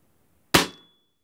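One crisp, close shot from a Weihrauch HW 45 air gun at its second power setting pops sharply and fades within a fraction of a second, leaving a thin metallic ring in the quiet afterward.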